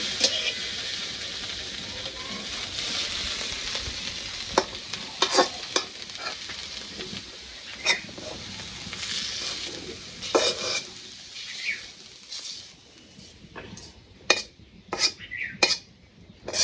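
Fish seasoned with salt, turmeric and chili fries in oil in a pan, a steady sizzle under repeated sharp scrapes and clinks of a utensil stirring against the metal.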